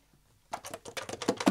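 Bass clarinet keys clicking and clattering in a quick irregular run of crisp, close taps, starting after a brief silence and played alone.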